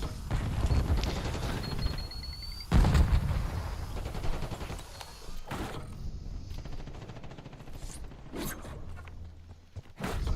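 Video game gunfire with a grenade blast, a loud burst near the three-second mark amid ongoing shooting and impacts, with sharp cracks later in the firefight.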